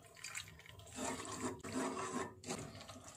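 Water poured into a pan of mushroom manchurian: a close, soft splashing and sizzling pour lasting a few seconds, quiet overall, with brief pauses between pours.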